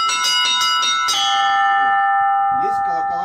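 Small zazvon church bells of the Ascension church in Stary Oskol ring in a quick series of bright, clear strikes, then sustain a long shimmering ring that fades as a voice begins speaking near the end.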